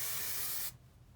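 Hairspray misted onto voluminous curls in one close, loud continuous hiss lasting well over half a second before cutting off to quiet.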